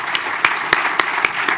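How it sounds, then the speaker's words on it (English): An audience applauds the panelists at a national health financing dialogue, steady loud clapping from many hands with a few sharper individual claps standing out. "please, again, a round of applause and appreciation for our excellent panelists"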